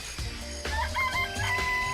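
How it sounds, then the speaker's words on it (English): Chickens cluck and a rooster crows in a chicken coop in the video game Danganronpa, several layered calls over a steady background hum. "Remember there was some chickens in the chicken coop."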